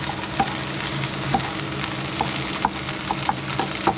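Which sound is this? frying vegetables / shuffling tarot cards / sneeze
frying vegetables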